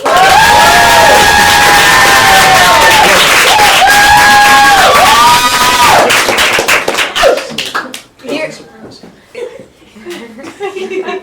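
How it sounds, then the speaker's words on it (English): A class loudly applauds and cheers for a visiting guest, dense clapping and whoops with sung or sustained vocal tones for about six seconds before fading into scattered claps and talk. "Didn't expect so much applause."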